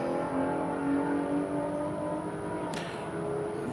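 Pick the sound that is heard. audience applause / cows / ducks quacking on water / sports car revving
sports car revving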